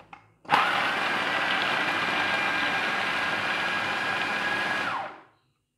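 Electric grinder whirring steadily as it pulverizes chickpeas with black pepper, spices and lemon juice, a loud continuous motor whine that starts abruptly, holds for about four and a half seconds, then cuts off.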